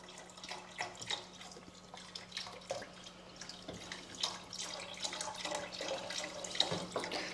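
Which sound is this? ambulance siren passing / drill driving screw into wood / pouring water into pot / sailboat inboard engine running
pouring water into pot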